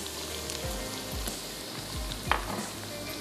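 Cabbage and mixed vegetables fry with salt in a hot pan, giving a loud, continuous sizzle close up, broken by a few soft scraping stirs and one sharp crackle.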